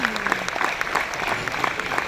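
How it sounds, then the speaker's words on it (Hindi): An audience claps loudly for Mahabharat cast members as they are introduced, a brief, continuous burst of crowd applause. "जोरदार तालियां द्रौपदी के लिए"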